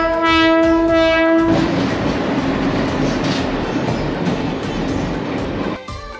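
An Indian train's horn sounds loudly for about a second and a half, then the heavy roar and rumble of passing rail cars continues steadily until it fades near the end.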